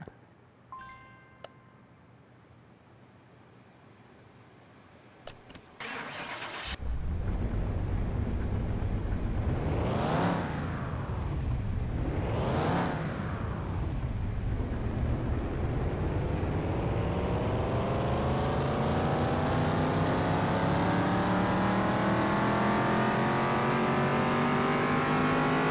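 A car engine in Car Mechanic Simulator 2021, roughly 700 horsepower, starts up after a few clicks, then revs hard twice and settles into a loud, sustained high-revving roar that keeps climbing.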